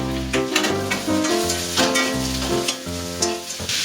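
Pumpkin pieces frying with ginger and garlic in a pan for a Bengali greens chorchori, giving a steady close sizzle with bursts of stirring throughout, over a tonal background.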